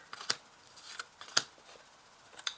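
Tarot cards being laid out on a table, a few soft crisp snaps and slides of card stock spaced irregularly, quiet and close with no talking.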